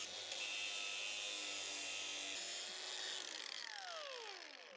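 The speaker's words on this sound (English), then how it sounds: "I needed to get rid of protruding nails with my angle grinder" An angle grinder cutting protruding nails off roof timbers, a loud high whine that holds steady, then spins down with a falling pitch near the end, close and with no talking.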